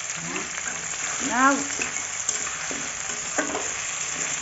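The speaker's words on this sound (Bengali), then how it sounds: "এখানে দিয়ে দিয়েছি পেঁয়াজ, রসুন, আর হচ্ছে আলু একটু ভাজা ভাজা করে" Onion, garlic and potato fry in a pan with a steady, close sizzle, broken by stirring scrapes; a voice speaks briefly partway through.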